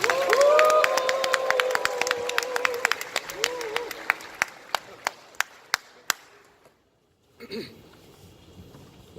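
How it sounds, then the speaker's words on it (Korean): An audience at a church mission dinner applauds and cheers to welcome a pastor; dense clapping with some voices fades into scattered, distinct claps, then near silence before a brief sound from the stage. "우레와 같은 함성과 박수로 그렇게 목사님을 맞이하도록 하겠습니다"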